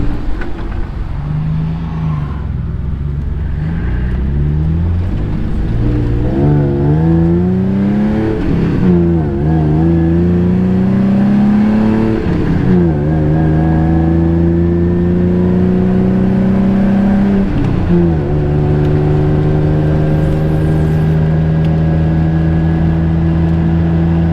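A mini truck accelerates up through its new gears, engine note rising and dropping at each shift, loud and close for the whole stretch with no talk over it.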